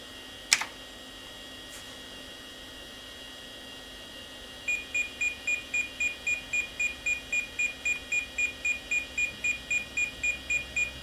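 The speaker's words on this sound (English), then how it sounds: "And the beeping is in no way annoying." A sharp click, then a steady run of regular electronic beeps from a computer during a system speed test, repeating about twice a second, loud and close, with no voices.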